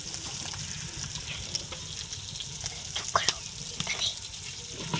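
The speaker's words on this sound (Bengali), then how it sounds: "মশলাটা একটু কষে নেব।" Spices such as cardamom, cinnamon and bay leaf sauté with a little water and salt in a pan, giving a steady, quiet sizzle and bubble with occasional light stirring.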